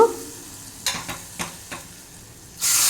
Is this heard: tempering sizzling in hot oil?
yes